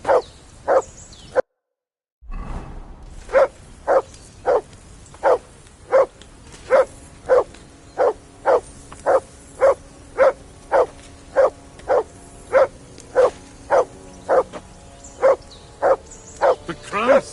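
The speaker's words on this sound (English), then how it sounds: "Call off that damn dog before he down the last of our mates." In the video game Kingdom Come Deliverance 2, a dog barks over and over at a steady, rapid pace, each bark loud and close, after a brief moment of silence near the start.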